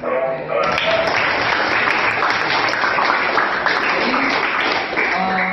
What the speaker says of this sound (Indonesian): Oke, kita beri tepuk tangan buat